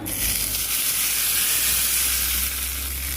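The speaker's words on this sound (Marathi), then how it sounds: "कढीपत्ता. फोडणी अशी छान तरतरली" Curry leaves crackle in hot oil for a Maharashtrian tempering, a loud continuous close-up sizzle with a bright hiss that holds steady throughout, no voices.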